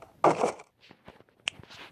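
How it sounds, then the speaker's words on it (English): A burst of crunching, crumbling noise from houses being destroyed in the game WorldBox, followed by scattered small clatters and knocks, fairly quiet overall. "then I just heard houses being took down."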